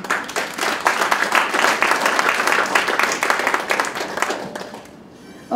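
Applause from an audience at an award ceremony: a dense burst of many hands clapping, loud and sustained for about five seconds before thinning out abruptly near the end.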